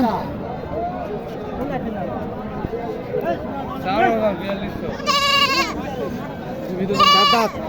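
Two loud goat bleats ring out near the end over steady chatter from several people talking nearby at a goat market in Dhaka.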